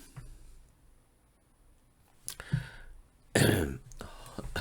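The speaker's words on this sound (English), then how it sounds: "I keep having a coughing fit." A close, fairly quiet coughing fit, with two or three separate harsh bursts of throat clearing and coughing separated by short pauses in an otherwise still room.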